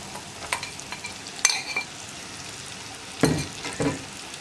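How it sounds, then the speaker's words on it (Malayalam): Bitter gourd fries in hot oil in a pan while a spoon stirs it, giving soft sizzling with a few scraping strokes and clatters, close and fairly quiet. "പാവയ്ക്ക ചേർത്തിട്ട് ഒന്ന് ഇളക്കി മിക്സ് ചെയ്യാം. പാവയ്ക്ക ഈ എണ്ണയിലൊന്ന് കുക്കായി വരണം."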